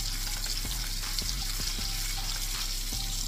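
Filet mignon sears in a hot pan just after being turned, giving a steady close sizzle and crackle with a few soft clinks and bumps of handling.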